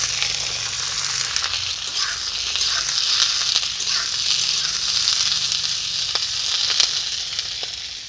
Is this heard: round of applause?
no